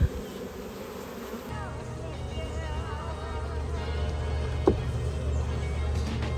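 Honey bees buzzing steadily in a laying worker colony, a dense continuous hum filling the clip at close range with a brief sharp knock near the end.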